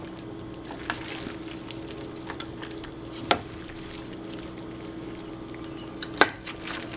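Chicken thighs and frozen vegetables stirred in a pan for meal prep, a soft continuous scraping swirl with a faint sizzle and two sharp utensil clinks against the pan.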